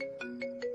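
Phone ringtone repeating in three short bursts with a steady tone, ringing unanswered at close range.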